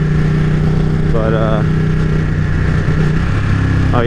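A Ducati 959 Panigale rider's engine drones loudly under wind noise, then drops pitch in quick stepped downshifts with brief blips from the quick shifter, while the rider talks intermittently.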